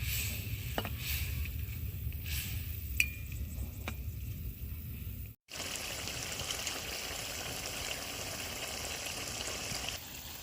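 Water runs and trickles into a pot of Malabar spinach, then gives way to a steady, even hiss of simmering liquid, close and moderately quiet, with no voices.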